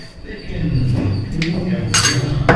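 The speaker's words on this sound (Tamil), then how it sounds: "இப்போ இதில் வந்து நான் ஜீனி மிக்ஸ் பண்ண போகிறேன்" A metal spoon clinks against a vessel while sugar is stirred into coconut milk for appam, a few light taps and scrapes scattered under a voice speaking.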